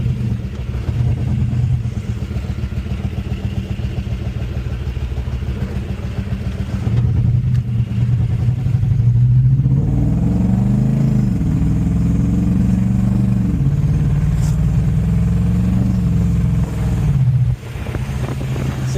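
A Nissan Hardbody pickup with a swapped, built Ford 302 V8 and AOD automatic transmission driving, a loud close engine drone that rises and drops as the gearbox shifts, with clatter near the end.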